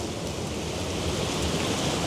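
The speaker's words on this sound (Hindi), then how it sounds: "और ये बारिश है कि गरज गरज बरस वाले हालात हुए हैं" Heavy rain pours in a dense, roaring wash with a low rumble underneath as a thunderstorm brings small hailstones, steady and loud outdoors with no speech.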